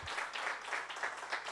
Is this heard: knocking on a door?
no